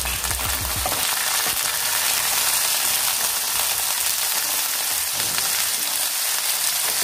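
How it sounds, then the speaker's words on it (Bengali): Diced potatoes with onion fry in a pan, a steady, loud, dense sizzle that continues without a break, with a few stirring scrapes and no talk. "আর আলুগুলোকে আমি একটু ভাজা ভাজা করে নেব"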